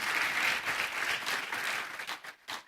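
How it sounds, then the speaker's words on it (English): An audience claps for two panelists at a panel discussion on future-ready organisations, steady applause that fades and breaks into a few scattered claps near the end. "So give them a special round of applause for that."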